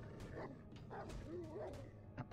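A dog in the 7 Days To Die video game gives a series of short yips and whimpering barks, fairly close, with game noise underneath.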